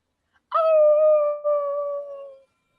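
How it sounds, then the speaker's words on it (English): A single long, loud werewolf howl rises sharply and holds a steady wavering tone for about two seconds before fading, heard alone in a fantasy role-playing game scene. "You hear a sound, Trickshot. This is not a made-up howl."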